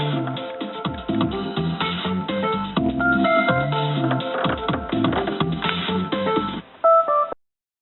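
Phone keypad dialing tones calling 411 on an LG Marquee, played through a car audio system, a rapid sequence of beeping key tones over music-like background, followed by a short pause and final tones.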